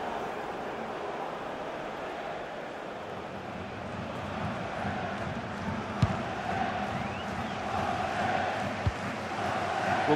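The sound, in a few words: football stadium crowd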